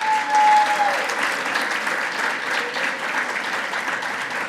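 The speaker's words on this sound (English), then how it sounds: "You notice nobody's holding their applause." Loud, steady audience applause fills the hall at an opening gala as an army officer from a Canadian regiment is introduced, with a brief cheer near the start and continuous clapping throughout.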